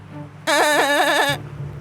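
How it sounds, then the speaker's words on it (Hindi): A goat in a Hindi horror cartoon bleats loudly in one long, wavering, quavering call, close and prominent over a quiet background, lasting under a second. "और ये बकरी इतनी चिल्ला क्यों रही है?"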